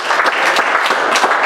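A church congregation at a Sunday service breaks into loud, close hand clapping, a thick continuous patter of many hands with irregular accented claps throughout.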